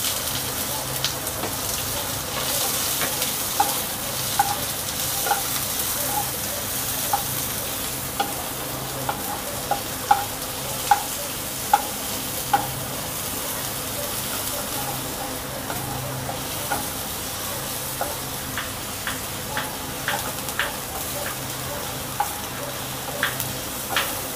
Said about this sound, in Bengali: আমাদের পেঁয়াজটা লাল লাল করে ভাজা হয়ে গেছে